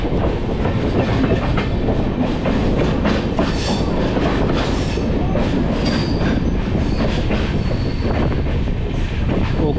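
The Jamnagar–Tirunelveli Express runs on the Konkan Railway near Aravali station, a loud continuous rumble with clattering wheels and rattling carriages heard from inside, steady for ten seconds with no talk.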